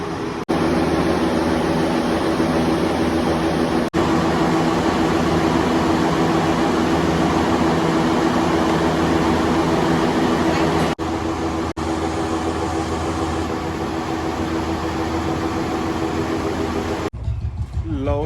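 A mustard threshing machine clattering loudly and steadily at close range, a dense mechanical roar that runs unbroken for most of the stretch before cutting off near the end.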